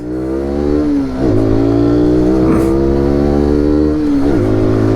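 SYM NH-X 125 scooter accelerating hard from a U-turn, its engine note rising steadily through the gears with brief dips at each shift, close and loud with no talk.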